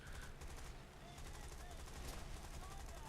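Spitfire Mk.I machine guns in a flight combat game, a steady rapid rattle of fire running the whole time beneath engine drone, fairly faint, with a voice talking over it.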